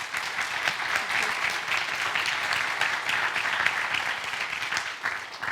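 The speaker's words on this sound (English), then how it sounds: "Can we give them another round of applause?" Sustained applause from a conference audience at the 2024 WholeNZ event in New Zealand, dense and steady clapping filling the room for several seconds without a break.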